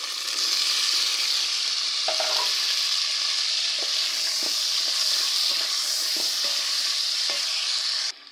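Potatoes and garlic fry in a pan with a steady loud sizzle and hiss, close up, with light scraping and stirring taps throughout.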